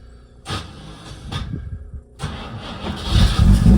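A 1968 Jaguar E-Type with starting and compression trouble cranks in two bursts, a brief one then a longer one that builds toward a rough catch, close and loud with no talking.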